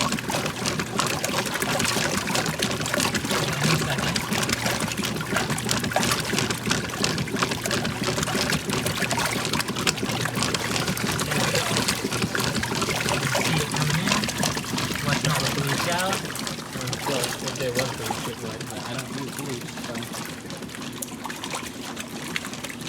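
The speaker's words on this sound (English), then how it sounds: "This one I just heard flush the bleach dispenser, so let's see it do it again." Washing machine flushing water through its bleach dispenser, a steady loud rush and trickle of pouring water that runs continuously before easing slightly toward the end.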